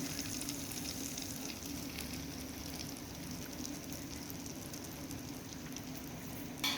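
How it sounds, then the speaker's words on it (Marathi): Fenugreek seeds and pepper frying in oil for a traditional village-style pickle, a steady close sizzle with a soft crackle running throughout and no talk. "नंतर असे एक एक वस्तू आपल्याला तळून घ्यायचे."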